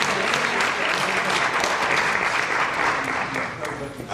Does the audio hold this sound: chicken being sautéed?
no